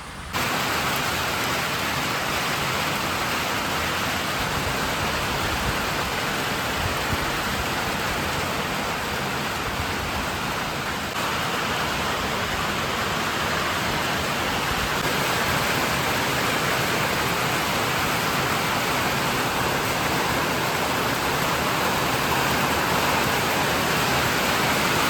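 Heavy rain pours down over a wheat farm in a dense, unbroken hiss that holds steady and close, with no voices.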